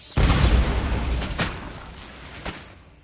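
A Bombarda explosion spell goes off in Hogwarts Legacy with a sudden loud boom and rumbling tail, followed by a couple of smaller bursts that fade into quiet.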